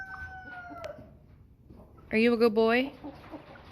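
A young American Bresse rooster, six to eight weeks old and raised in a coop, lets out a short, loud burst of harsh clucking calls close by, following a person speaking softly to it.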